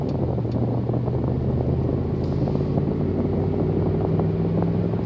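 A car engine fitted with a Roar pedal throttle controller, set in race mode 5, hums in a low continuous drone with gentle rises in pitch from light throttle presses, steady and close without speech.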